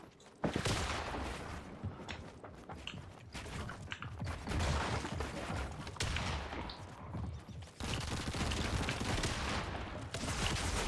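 Rapid bursts of gunfire with mechanical clicks and clatter from a competitive shooter video game, loud and near, running almost continuously with brief gaps.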